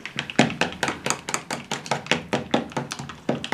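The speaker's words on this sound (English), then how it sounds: "And then I just stir it up." A homemade hair moisturizer mixture is stirred in a container, a steady run of quick, close tapping and scraping knocks in a regular rhythm with no voices over it.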